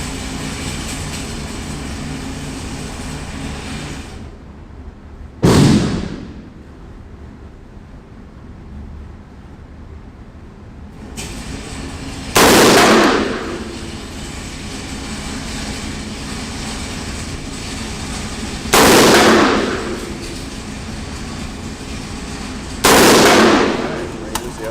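A suppressed CZ Bren 2 rifle in 5.56x45mm fires on a range: four sharp, loud reports spaced several seconds apart, each with a short decaying tail over quiet outdoor background.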